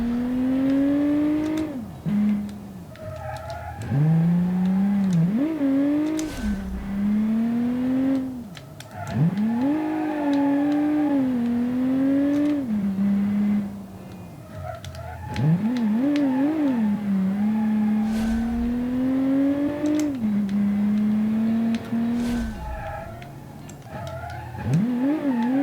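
The Raptor GT6 car engine in Automation revs hard through repeated gear shifts, each climb in pitch dropping sharply before rising again, with brief tire squeals. It stays loud and close throughout, with no voices.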